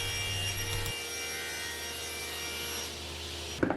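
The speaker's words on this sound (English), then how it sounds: "The purple heart does sand quite nicely." Sanding purpleheart wood for a torsion box table, a steady close abrasive rubbing that runs continuously, then stops with a brief knock at the end.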